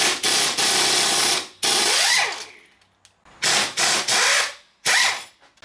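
A power tool takes out 11 mm bolts from a 42RH transmission during a teardown, loud whirring bursts in several separate pulls with short pauses between them, close up and without talk.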